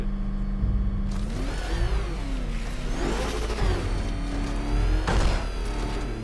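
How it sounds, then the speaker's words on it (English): The Batmobile in Batman: Arkham Knight revs its engine hard, the pitch climbing and dipping through several surges over a constant low rumble, loud and close with no talk over it. "Let's rev that engine and go."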